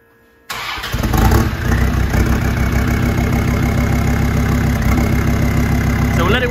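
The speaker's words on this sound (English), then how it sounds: "this is gonna be the first start. You can hear what it sounds like" A Land Rover Defender 90 engine cranks and catches on its first start after silence, then settles into a loud, steady rumbling idle close by, with a brief voice near the end.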